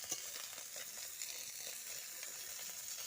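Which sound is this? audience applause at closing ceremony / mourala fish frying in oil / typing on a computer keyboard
mourala fish frying in oil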